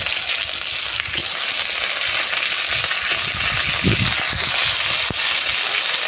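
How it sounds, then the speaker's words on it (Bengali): Sliced potatoes fry in hot oil in a wok with salt and turmeric, a dense, even sizzle running throughout with a few soft stirring scrapes and a brief clink, close and with no talking. "এবার আলুগুলো ভেজে নেব।"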